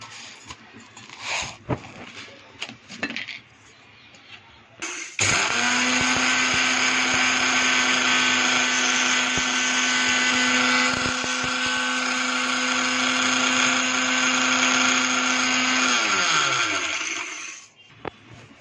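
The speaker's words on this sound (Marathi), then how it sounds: "थोडे थोडे घेऊन मिक्सरला वाटायचे" A kitchen mixer grinder pulverises a small batch of roasted parboiled rice, starting with a sharp whir and holding a loud, steady motor whine for about twelve seconds before spinning down. Faint sounds come just before it starts.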